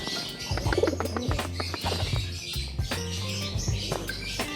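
Pigeons coo repeatedly in low, throaty pulses during courtship driving, a male chasing a hen, with chirps and fluttering mixed in, close and continuous.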